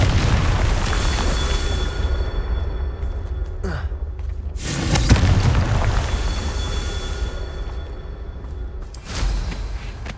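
Confringo spell blasts in Hogwarts Legacy on PS5 land as sharp booming bursts, several of them over a low rumbling game soundscape, each followed by a brief decaying crackle.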